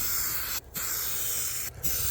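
A Rust-Oleum 5-in-1 custom spray can hisses out paint in steady close bursts, with two brief pauses where the spray stops before resuming.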